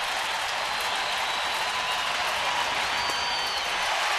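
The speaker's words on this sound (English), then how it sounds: "a large and energized crowd has come to Minute Maid Park and is standing at the end of the game" A large crowd at Minute Maid Park in Houston stands and applauds at the end of a baseball game, a dense, steady wash of clapping and cheering that holds loud throughout.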